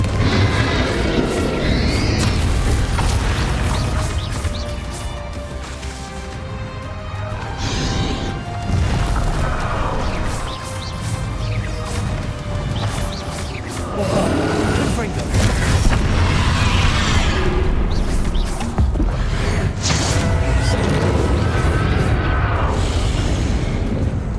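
A Confringo fire spell bursting in Hogwarts Legacy during a fight against a dragon, heavy crashing blasts and booms layered over a dense battle din, with a voice casting spells.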